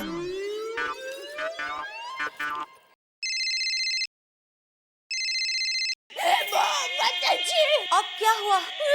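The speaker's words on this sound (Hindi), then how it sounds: "मेरा फोन बज रहा है।" A mobile phone ringtone sounds in two short, loud, even bursts of bright electronic tones separated by a second of silence, with other busy tonal sound before and after.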